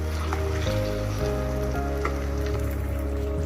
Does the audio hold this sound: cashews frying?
yes